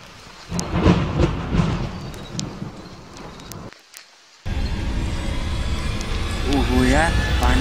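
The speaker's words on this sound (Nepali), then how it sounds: "ओहो यार पानी पर्यो।" Rain and rolling thunder fill a horror movie scene, with loud crashing bursts, a brief drop to silence, then steady heavy rain hiss as a voice speaks over it.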